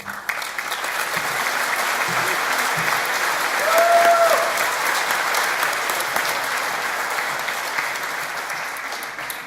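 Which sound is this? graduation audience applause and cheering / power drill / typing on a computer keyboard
graduation audience applause and cheering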